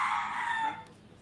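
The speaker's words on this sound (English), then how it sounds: "Comrade Rooster approves." A rooster crows once, a single loud drawn-out cock-a-doodle-doo close by that fades out after about a second, with no other sounds around it.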